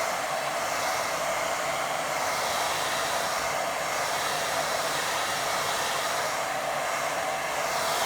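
A hair dryer blows on watercolour paint with a steady, close whirring roar, its airflow wavering slightly but never stopping; no one speaks.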